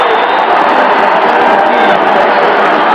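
A football stadium crowd at a 1981 New York Jets versus Green Bay Packers game roaring after a sack, a loud, dense, sustained wash of cheering with no break.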